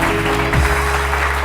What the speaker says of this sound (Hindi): बहुत सारी तालियां सलमा के लिए जी। बहुत सारी तालियां सामने।